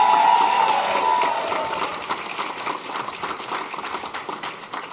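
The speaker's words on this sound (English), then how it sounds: "Give them a big round of applause." Audience applause at a political concession speech, dense steady clapping from a crowd that starts loud and slowly tapers while continuing through the whole stretch, with no one speaking over it.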